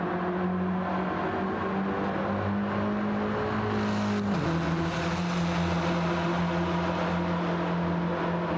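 Several race cars running nose to tail through a right-hand corner in a sim racing game, a steady engine drone with a pitch drop midway as they shift or brake, continuous and fairly loud without talk.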